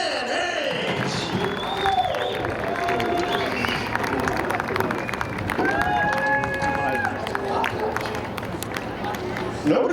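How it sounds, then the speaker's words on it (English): Crowd at Seekonk Speedway applauds and cheers for a first-time Sport 4 feature race winner, a steady dense clapping and cheering murmur throughout, with someone talking over it and scattered whistles and shouts. "How about a round of applause for Dan Hayes?"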